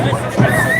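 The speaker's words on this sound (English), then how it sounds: "Once again, we have a great crowd. They're all here." Outdoor crowd of supporters gathered at a political speech by Tommy Robinson in Barrow, heard as a brief, steady murmur of babbling voices with no single sound standing out.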